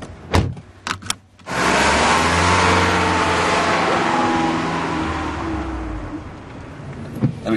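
A car engine runs close by in the town of Groningen, starting after a few sharp clunks and holding a steady loud drone, easing slightly toward the end.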